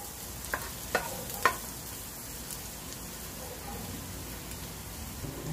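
Chicken frying toward golden brown in a pan for adobo, a low, steady, rain-like sizzle throughout with a few sharp clicks near the start, fairly quiet and close.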